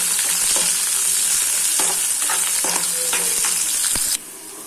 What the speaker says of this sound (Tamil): ரெண்டு இனுக்கு கருவேப்பிலை ஒரு பெரிய வெங்காயம் இதை நல்லா வதக்கி விட்டுறலாம்